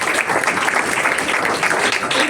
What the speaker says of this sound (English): a warm round of applause for all our brilliant participants